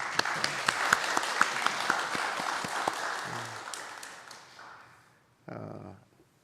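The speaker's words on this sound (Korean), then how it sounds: "우리 이 시간에 우리 찬양 대원들한테 고맙다고 박수 한번 치지요." Church congregation applauding the choir during a Sunday service, sharp near claps over a dense crowd that tapers off, followed by a brief voice.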